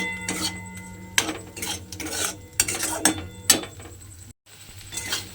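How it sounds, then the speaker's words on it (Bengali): Spice masala for an okra dish being stirred and sautéed in a pan, heard as close metallic scrapes and clinks of a spoon against the pan in irregular strokes over a faint sizzle, with no speech. "আবারও কিন্তু মশলাটাকে আমাকে একটু কষিয়ে নিতে হবে"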